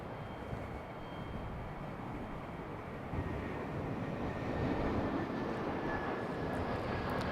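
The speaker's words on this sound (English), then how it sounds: "next arrival, American Airlines 1152, Airbus A321, coming in from DFW, Dallas" American Airlines Airbus A321 jet arriving from Dallas at Charlotte airport, a broad, steady roar of engines heard from a distance, swelling slightly as it approaches, with no talk.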